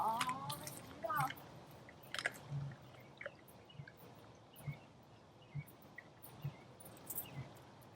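A big cat crunches and chews its food in a faint, steady series of soft bites, with crickets chirping quietly in the background.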